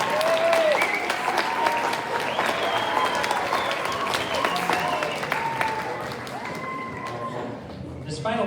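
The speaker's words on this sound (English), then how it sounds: "Another applause." Audience applause fills a school auditorium after a middle school winter band concert piece, steady close clapping with some crowd voices that gradually thins toward the end.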